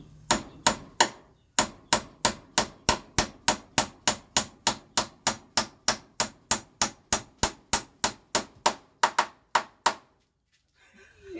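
Steady hammer blows drive a nail, about thirty sharp evenly spaced strikes over ten seconds, close and crisp, then a brief pause with faint handling noise.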